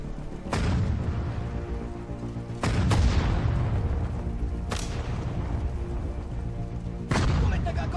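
Artillery bombs fire in the Sudden Strike 4 strategy game, Soviet campaign on the Mannerheim Line: four loud, sharp booming blasts spaced a couple of seconds apart, each trailing off into a rumbling wash over a steady low battle din.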